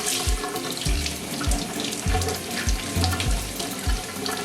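A kitchen faucet runs steadily into a sink while sandy produce is rinsed one piece at a time, with repeated low thumps and splashes as items are handled under the stream, close and fairly loud.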